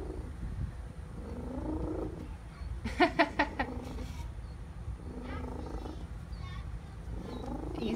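A pet cat purrs in a low, continuous rumble close by while being gently brushed and handled. Voices talk softly at times over it, and a short burst of sharper clicks cuts in partway through.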